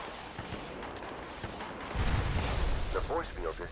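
Grenade explosions and gunfire in the video game Fallout 76. After a quieter stretch a heavy booming blast hits, then rapid shots crackle, all under a player talking.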